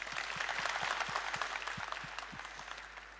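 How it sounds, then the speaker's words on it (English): An audience applauds after a talk at a security conference, with sustained dense clapping and some sharper individual claps, tapering slightly toward the end. "Big round of applause for Hasain."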